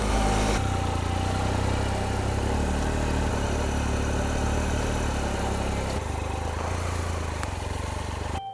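A Triumph Explorer XCa motorcycle engine runs continuously while being ridden off-road through ruts, a loud, close, steady drone with slight shifts in pitch and no talking.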